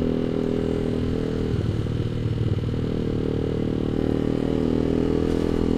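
Yamaha R15 V2 motorcycle engine running steadily while being ridden at relaxed pace, a continuous mid-pitched drone with brief rattly clatter near the middle, close and fairly loud throughout with no talking.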